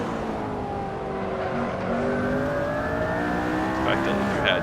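A McLaren P1 laps a track in the Assetto Corsa racing game, its engine note rising steadily through a gear with faint tire squeal, heard under continuous talking from a voice.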